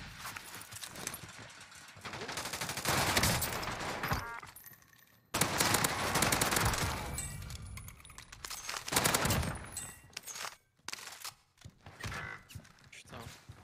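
Gunfire in a video game, dense rapid bursts of shots and clattering fusillades, loud and close with brief pauses between volleys, under intermittent talk.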